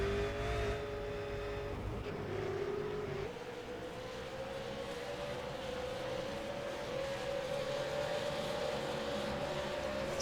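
Race cars in a V8 Supercars sim racing game, a close pack of engines droning steadily with a rising high-pitched whine as one accelerates, loud and continuous without pause.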